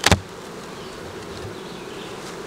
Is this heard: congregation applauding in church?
no